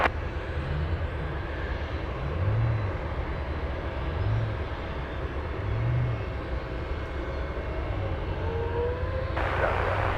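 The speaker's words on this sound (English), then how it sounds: "a 747 is on a final approach" A Cathay Pacific Boeing 747 heavy on final approach to land at Anchorage airport, a steady low engine roar drifting in from a distance, with slow swells in loudness and faint background voices.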